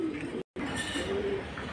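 Female McFie pigeon cooing at a pigeon market, a soft close coo with faint bird calls around it, briefly cut to silence partway through.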